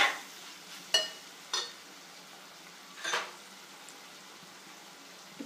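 Onions, green chili and chili powder fry in oil for a chicken liver fry, under a low steady sizzle with a few sharp spoon scrapes and clinks against the pan, close up.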